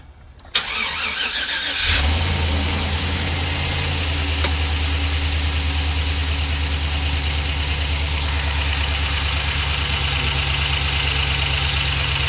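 A Chevy Express van engine, fitted with new spark plugs, wires and ignition coils, cranks briefly, catches and roars to life, then settles into a steady, even idle that continues loudly without talk.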